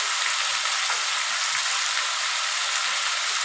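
Chicken pieces with chili sizzling in a hot pan while being stirred, a bright continuous sizzle up close with soft scraping movements underneath.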